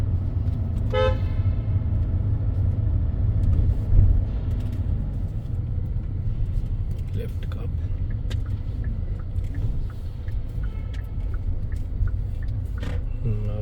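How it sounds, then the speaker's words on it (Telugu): A bus passing on a road beside a parked 2021 Creta, a steady low engine rumble with a brief horn toot near the start, heard under someone talking. "అది బస్సు"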